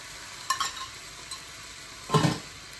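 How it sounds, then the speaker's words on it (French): Tomato sauce and then water go into a hot frying pan, making two short bursts of sizzle and splatter with a few utensil clinks between them, over a quiet background with no talking. "on met un peu de sauce tomate. Hop, un peu d'eau comme ça."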